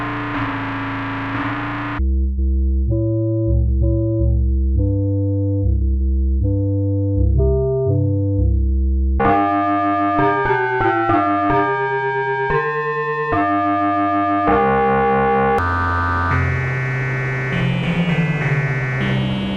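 The Kuma 508 synth plugin plays a sequence of sustained tones and melodic notes through its onboard distortion, starting gritty and buzzing, thinning to clean pitched notes, then returning to a thick, loud, harmonically rich tone.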